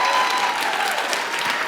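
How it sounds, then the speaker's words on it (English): Brief, full applause from a live show's audience at the Live at Spectrum season finale, many hands clapping thickly and evenly throughout. "Please, another round of applause for Khristian Mizzi."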